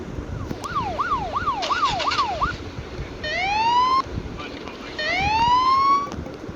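Police car siren in a game car theft scene, first a fast rising-and-falling wail, then two long upward sweeping whoops, loud and close over a rumbling background.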